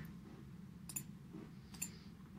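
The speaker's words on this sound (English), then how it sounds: "I can keep clicking until I find something that I like." Computer mouse clicking: two sharp, isolated clicks about a second apart, quiet and close, over a low steady background hum.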